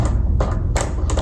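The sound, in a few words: tension rods being spun off a marching snare drum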